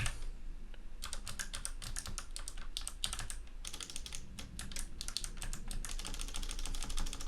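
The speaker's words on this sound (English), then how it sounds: "start typing some passwords." Passwords being typed on a computer keyboard: a rapid, uneven stream of crisp key clicks, close and steady throughout, with no talking.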